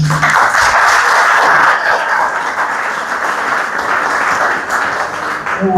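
Steady, loud applause from a community gathering at a primary school for Mosquito World Day, sustaining without a break through the whole stretch.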